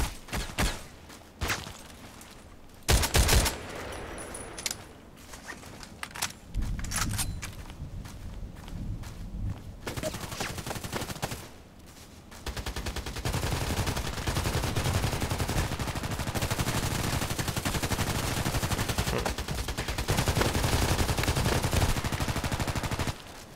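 Gunfire in a video game's sniper match with SVD-S sniper rifles, sharp cracks scattered through the first ten seconds, then a dense continuous roar of shooting and action noise that holds loud to the end.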